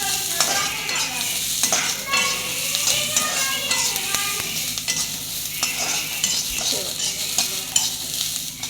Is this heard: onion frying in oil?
yes